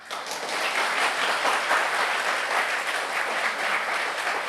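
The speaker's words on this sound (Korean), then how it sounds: "여러분은 박수만 치고" Audience at a Korean church summer retreat sermon breaking into applause: thick, sustained clapping from a large room, fairly loud and even for several seconds.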